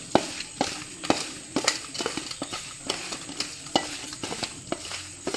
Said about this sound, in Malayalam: നമ്മൾ കൈ കൊണ്ട് തന്നെയാണ് മിക്സ് ചെയ്യുന്നത്